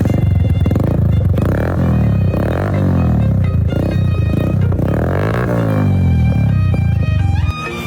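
A motorcycle engine runs loud and close, its pitch rising and falling through several revs, with a steady rumble underneath throughout.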